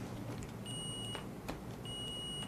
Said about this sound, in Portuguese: O meu faz um bip, quer ver?